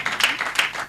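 Church congregation applauding and clapping at a celebration service, a dense, steady wash of many hands with bright bursts, fairly close and continuous for under a second.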